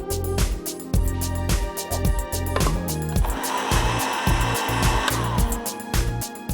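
A blender whirs as it blends soaked figs with cream for ice cream, a steady close motor drone with rhythmic pulsing surges throughout.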